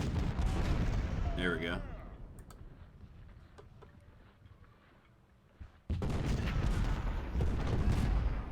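Heavy booming cannon fire from Civil War artillery in the strategy game Ultimate General: Civil War, loud blasts and rumbling bursts at the start and again near the end around a quieter gap, with someone speaking briefly.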